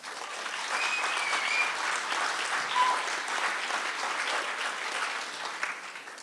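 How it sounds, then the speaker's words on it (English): A conference audience breaks into sustained, dense applause that rises quickly and stays even for about six seconds. The clapping is full and close, with no speech over it. "Give yourself a round of applause."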